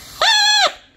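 A horn whistle folded from colored origami paper, a handmade vuvuzela, gives one steady, buzzy, reedy honk lasting about half a second. It is loud and close with no talking.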